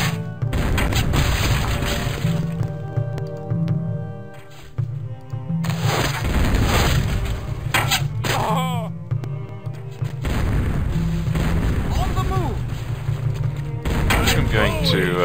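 Cannon fire and battle noise in the strategy game Total Annihilation: Kingdoms, repeated heavy booms and crashes over layered game music and effects, continuous and loud throughout.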